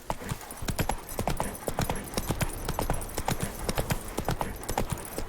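A horse's hooves clip-clop at a steady trot in The Witcher 3, a brisk, continuous rhythm of sharp, close hoofbeats with faint background ambience.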